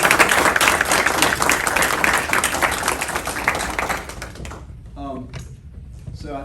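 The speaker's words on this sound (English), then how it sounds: "I think it is okay for us to applaud our veteran who is here tonight." A crowd at a family gathering claps for a veteran after a ceremony, dense loud applause lasting several seconds before thinning to a few scattered claps and quiet voices.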